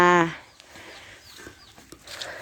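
Chickens on a family farm give a loud clucking call at the start, followed by quieter scattered clucks and farmyard sounds.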